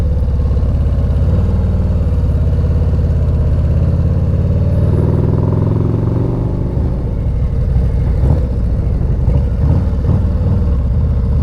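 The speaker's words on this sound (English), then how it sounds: "around comes the motorcycle." A 2024 Harley-Davidson Street Glide fitted with a stage two kit, its engine loud and close, rumbling steadily and then revving up and down in repeated surges with no talking.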